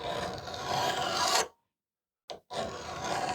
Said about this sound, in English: So I have to be cautious as I am filing.